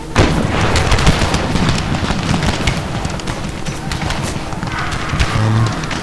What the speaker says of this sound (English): My 6-pounders are actually firing shrapnel shell, which isn't strictly correct.